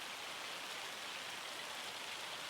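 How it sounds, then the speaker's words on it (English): Hail falls in a farming game, a dense, even hiss of pelting ice on surfaces, steady and fairly quiet with no talk. "And this is some fat hail."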